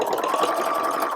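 A sewing machine hums in one continuous close run, stitching a seam on a pair of jeans being altered.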